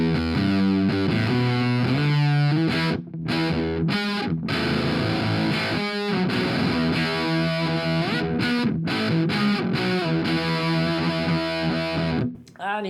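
Electric guitar on the bridge pickup through a Behringer Super Fuzz pedal, a bright, buzzing fuzz tone playing a steady riff with sustained notes and short choked gaps, loud and up close.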